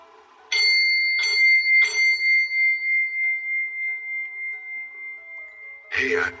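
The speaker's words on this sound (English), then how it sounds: "When I ring this bell, I want you to move something." A handbell rings close and loud, struck three times and then left to decay in a long, wavering tone before a voice cuts in at the end.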